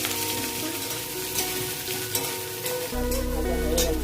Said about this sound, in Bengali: চিংড়ি মাছটা আছে, বিনস, কাঁচা লঙ্কা, বিনস গাজরটা ভেজে নেব।